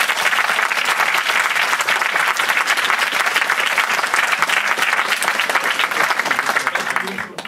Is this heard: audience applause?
yes